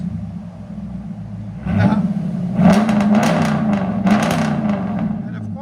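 A 5.7-litre HEMI V8 in a Jeep Grand Cherokee with Flowmaster Outlaw mufflers and 6-inch tips rumbles at a deep idle, then revs in several sharp bursts and settles back, close and loud.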